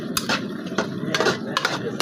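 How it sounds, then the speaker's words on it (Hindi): A spoon scraping and clinking against a cooking pot while karahi masala is stirred, a few irregular metallic taps and scrapes over a quiet background. "और अब हम इसको मसाले को मिक्स करेंगे अच्छी तरीके से।"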